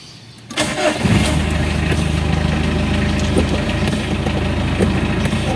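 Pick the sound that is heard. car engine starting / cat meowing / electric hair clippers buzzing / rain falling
car engine starting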